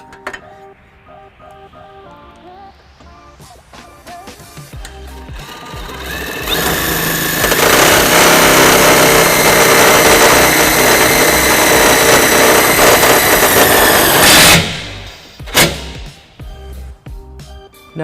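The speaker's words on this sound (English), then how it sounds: "We have our power tool with a 13mm socket that we will be using to do that." A power tool with a 13mm socket whirs steadily and loudly for several seconds driving self-tapping screws, then stops abruptly, with brief clicks and handling noises after.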